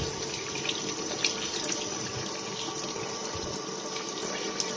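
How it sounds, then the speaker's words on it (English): Tap water runs steadily into a sink while a rusty Super Famicom game board is rinsed under it, a continuous close hiss and splash with small shifts as the board moves through the stream. "Go ahead and rinse this off."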